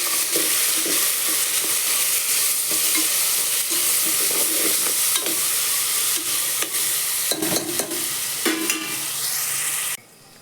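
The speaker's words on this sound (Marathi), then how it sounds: "आता हे आपण हलवून घेऊ" Masala being stirred as it fries for a basmati rice biryani, with a steady sizzle throughout and repeated scraping strokes of a spoon in the pan, ending abruptly near the finish; no talking.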